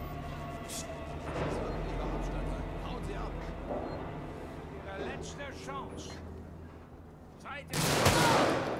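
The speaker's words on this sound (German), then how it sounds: "Alter, wow, ein Schuss, der daneben ging." A single loud gunshot bursts out near the end in the video game Alien: Isolation, following a stretch of quiet in-game ambience with a voice talking underneath.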